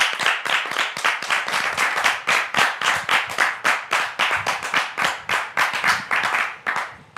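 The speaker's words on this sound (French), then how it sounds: "Merci de le recevoir donc sous vos applaudissements." A studio audience applauds a guest in rhythmic unison, loud, steady, evenly spaced claps repeating at a brisk beat for several seconds.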